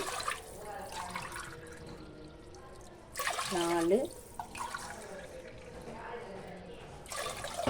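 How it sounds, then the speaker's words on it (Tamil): Measured cups of water are poured over millet rice set to soak, several short splashing pours with a voice counting between them. "அஞ்சு அழகு தண்ணி ஊற்றிட்டேன்"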